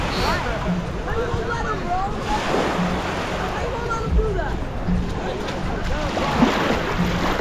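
Waves wash against the Lake Ontario shore below the Scarborough Bluffs, a steady broadband surge mixed with gusty wind noise on the microphone, close and continuous throughout.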